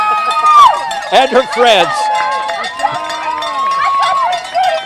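Spectators cheering marathon runners on a hill of a city race, excited shouts and whoops from a nearby crowd with a cowbell clanging, mixed with close talking.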